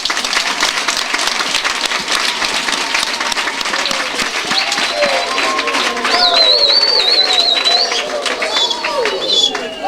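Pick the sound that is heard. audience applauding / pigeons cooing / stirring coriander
audience applauding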